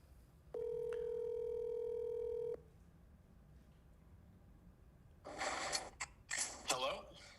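A telephone dial tone hums steadily for about two seconds before a pause and then a burst of rustling and breathy sounds near the end, with no speech.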